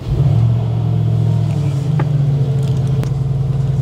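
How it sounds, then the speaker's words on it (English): Idling engine of a Mercedes G-Wagon rumbles deep and steady from close range, with a couple of faint clicks over the low drone. "I'm going to give you guys a quick startup of these cars because they sound good."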